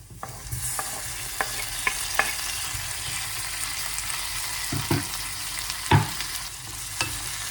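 Tomato stirred in a hot frying pan, with a steady sizzle under scattered scraping knocks of a spoon against the pan, one louder clunk near the end.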